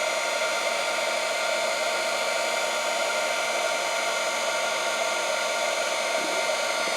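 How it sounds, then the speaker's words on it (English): A heat gun blows a constant, even hiss of hot air while reshaping a piece of shrink film, with no talking. "So if you want to reshape it, just use your heat gun again"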